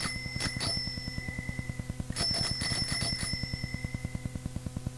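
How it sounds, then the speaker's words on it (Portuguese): A bicycle-style bell rings in two bursts of quick repeated strikes, the second burst longer, over a steady rhythmic mechanical ticking background; no talking. "aí está o sino outra vez."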